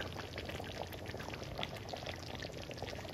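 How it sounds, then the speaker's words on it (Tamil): Hot water pours steadily into a pan of creamy chicken gravy, giving a continuous soft trickling and splashing sound, faint and close, with no talking. "கொஞ்சம் தண்ணி மாதிரி வேணும்னா ஹாட் வாட்டர் விடுங்க. கோல்டு வாட்டர் விடாதீங்க"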